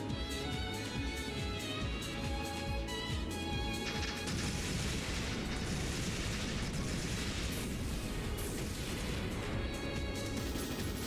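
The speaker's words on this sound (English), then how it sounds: "Mana cannon fire!" Mana cannon fire in the Trails in the Sky SC game battle: continuous dense rumbling blasts and crashes layered over loud music, sustained throughout.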